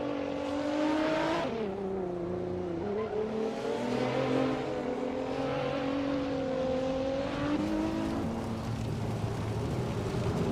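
Racing game cars, nimble Peugeot 306 Maxi and KTM models on a tight track, hold a continuous engine drone with rising and falling revs, steady and moderately loud with no talk.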